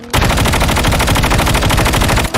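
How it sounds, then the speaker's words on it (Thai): Automatic gunfire in the mobile shooter Call of Duty Mobile, a loud, steady burst of rapid machine-gun shots firing without pause for over two seconds. "ยิงแล้วยิงแล้วยิงแล้ว"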